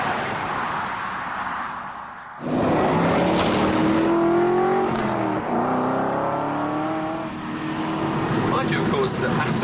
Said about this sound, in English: that torquey V8 has that wall of acceleration